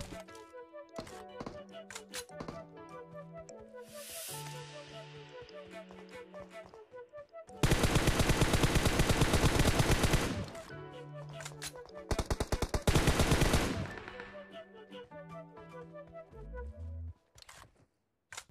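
Gunfire in the mobile battle-royale game PUBG Mobile on the Livik map: loud sustained automatic bursts of shots, then several shorter bursts, set over a steady layer of in-game music and effects.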